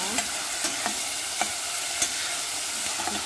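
Ground pork browning in a pan for a miswa noodle soup, giving off a loud, steady sizzle broken by occasional spoon clicks against the pan.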